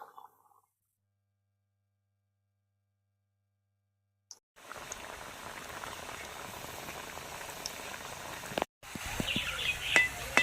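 Khaja pastries deep-fry in hot oil with a steady bubbling hiss that starts abruptly after a few seconds of silence, briefly cuts out, then resumes, loud and close.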